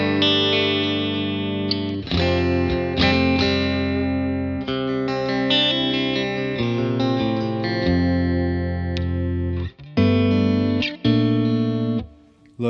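Electric guitar played through a Victory VC35 The Copper amp on its middle blended tone, reverb set halfway with no cuts or boosts, giving a continuous run of distorted chords and notes with a few brief pauses near the end.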